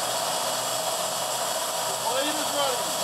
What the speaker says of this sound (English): Sounds like a sawmill. Motor's running, blade's not engaged.